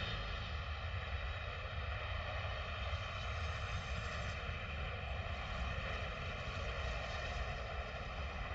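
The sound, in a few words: airplane landing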